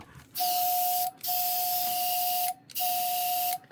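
A Black Widow dual air compressor from Harbor Freight emits a steady hissing whine with a pure high tone, cutting out briefly three times before starting again, loud and close with no talking.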